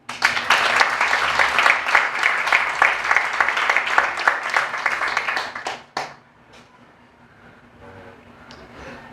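Congregation applauding during a church worship service, a dense burst of loud clapping for about six seconds that stops abruptly and leaves a quiet room with faint murmurs.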